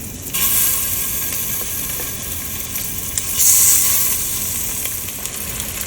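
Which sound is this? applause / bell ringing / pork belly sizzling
pork belly sizzling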